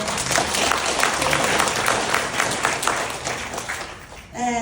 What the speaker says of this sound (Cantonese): 再一次俾自己嘅掌聲。